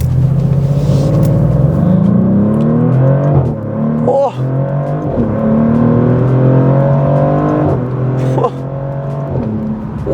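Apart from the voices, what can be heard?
Maserati GranTurismo Trofeo accelerating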